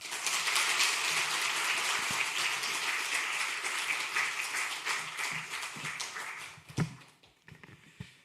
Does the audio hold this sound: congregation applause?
yes